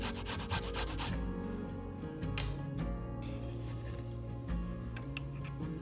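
Ginger root being peeled with a regular vegetable peeler, giving close, repeated dry scraping and rubbing strokes in an uneven rhythm with a few sharper scratches.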